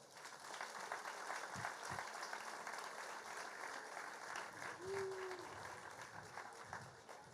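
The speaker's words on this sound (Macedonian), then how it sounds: "ве молам за еден аплауз" An audience applauds at the opening of Adora Diamond Garden in Skopje, marking the Adora team's 16th anniversary. The clapping is dense, continuous and moderately distant, with a brief tonal whistle partway through.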